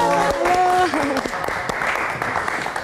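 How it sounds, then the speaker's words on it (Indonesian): Studio audience applause on a late-night Indonesian talk show, a burst of clapping rising as a host speaks, then continuing more softly under talk and a few sung or held tones. "kita berikan tepuk tangan sekali lagi untuk Adifa."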